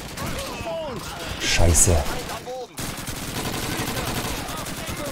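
A Thompson submachine gun fires in Call of Duty 2, quick bursts amid battle noise, with a louder cluster midway and a voice speaking briefly.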